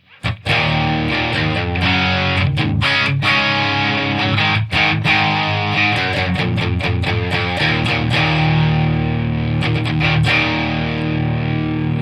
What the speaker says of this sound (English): you get this combination of clean and driven sound